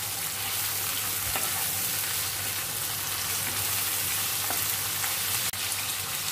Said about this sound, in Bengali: চিংড়ি মাছ দিয়ে দিচ্ছি।